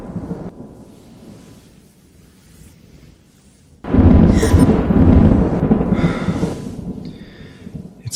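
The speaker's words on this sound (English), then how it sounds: "Thunder?" Thunder during a storm: a quiet, muffled stretch suddenly breaks into a loud, deep rolling rumble with a hissing wash like rain, then slowly fades.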